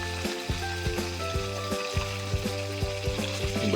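Tilapia frying in hot oil, a steady crackling sizzle with sharp popping bursts at a quick, irregular rhythm, close and fairly loud, with a constant bright hiss and a faint tonal hum underneath.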